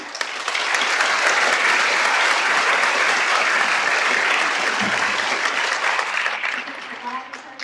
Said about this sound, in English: if we could offer a round of applause for our 2 soloists once again